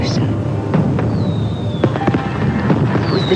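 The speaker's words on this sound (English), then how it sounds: "There were fireworks everywhere." Fireworks exploding across a city during Chinese New Year celebrations, a dense, continuous crackle of bangs and pops with whistling rockets rising through it, loud and steady throughout.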